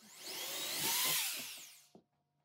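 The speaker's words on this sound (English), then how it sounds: "Here we're marking and drilling 4 holes around the outside of that rectangle" A power drill boring bolt holes for a laminar flow hood blower motor whines up, peaks, and spins down, followed by a brief clunk and then quiet.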